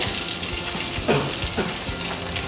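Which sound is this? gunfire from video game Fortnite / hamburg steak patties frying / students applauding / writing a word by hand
hamburg steak patties frying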